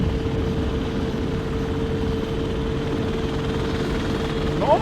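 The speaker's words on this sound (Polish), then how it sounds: "Niedaleko tutaj słychać helikopter" Steady low mechanical drone of a helicopter in a train simulator game, flying near an airport, with a constant rotor hum, moderately loud and unchanging throughout, with no talking.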